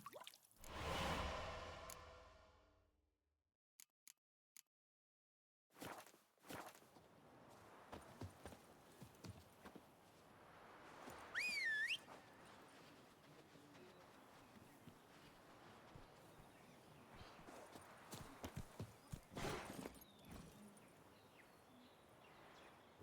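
Roach the horse gallops in The Witcher 3, producing a quiet, uneven clip-clop of hooves with scattered thuds and whooshes, interrupted by gaps of near silence.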